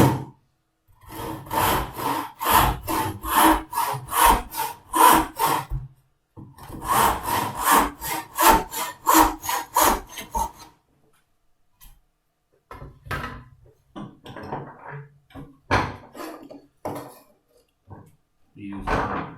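Spear & Jackson hand saw cutting hardwood held in a woodwork vise, with rapid rhythmic back-and-forth rasping strokes in two long close bursts, then scattered scraping and handling noises; a voice talks in between.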